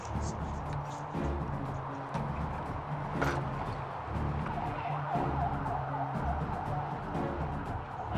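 An ambulance siren wails steadily during an emergency disaster-response drill in Uiwang, heard at moderate distance beneath a voice talking over continuous traffic noise.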